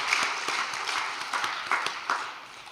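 Audience applause at a Korean religious gathering, a steady wash of many hands clapping at moderate distance, with a few sharper individual claps standing out over the dense crowd sound.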